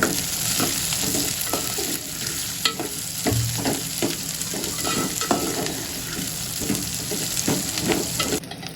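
Green chillies fry in a pan with softened onion for a dosa chutney. A continuous sizzle runs under frequent clinks and scrapes of stirring, with one sharper knock and a sudden stop at the end.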